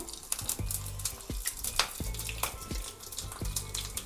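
Dried red chilli and green chilli sizzle and crackle in hot oil with popped mustard seeds and urad dal, a steady close-up fry for rasam tempering broken by a few sharp stirring clinks.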